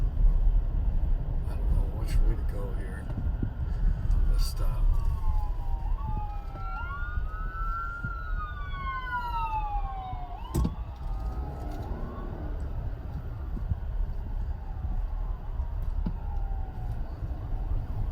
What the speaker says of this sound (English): Oh boy, ambulance is stuck in the traffic.